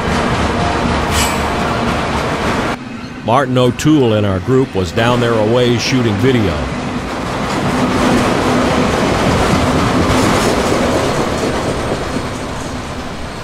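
A passing freight train with freight cars and piggybacks rumbles continuously in northwest Georgia, while someone narrates over part of it and the steady rolling clatter carries on alone afterward.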